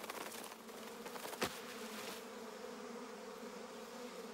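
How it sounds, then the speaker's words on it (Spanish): A steady bee buzz drones on close by in a cartoon, constant and even, with one brief sharp tap partway through. "¿qué ruido es ese? ¿Qué ruido? ¡Un zumbido!"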